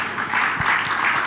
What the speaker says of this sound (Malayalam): ഒന്നുകൂടെ എല്ലാവരും ഒന്ന് കൈയടിച്ചേ